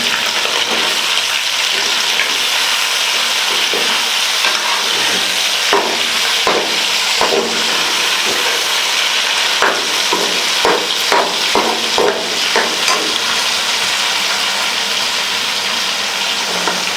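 Chicken karahi fries and sizzles loudly in a pan with continuous hissing, punctuated by scraping and clattering as it is stirred, close and steady throughout with no talk.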